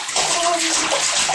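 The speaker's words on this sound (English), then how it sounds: "Splash it, boy." A child splashes in a filled bathtub, sending bursts of loud, close water sloshing and slapping that continue steadily through the whole moment.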